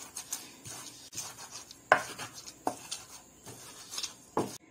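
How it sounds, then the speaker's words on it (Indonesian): Dried anchovies being pounded in a mortar for Pahang black sambal, producing irregular dull thuds and gritty grinding scrapes, close and fairly quiet. "Ikan bilis ni pun ditumbuk lenyek-lenyek juga."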